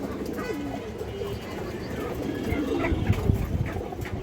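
A pigeon coos repeatedly amid a busy pigeon market, with other birds calling and someone talking over the cooing nearby.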